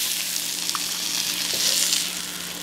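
Giant shrimp frying in a hot pan give off a steady, bright sizzle with a few small pops and crackles, close up and continuous, with no one speaking.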